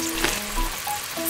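Miniature food with black pepper, basil and mozzarella being stirred in a tiny pan, giving a soft steady sizzle with a few faint scraping clinks, close and quiet, with no talking.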